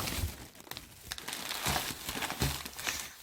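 Close, crisp crinkling of a plastic snack packet being handled, in several short rustling bursts with no talking.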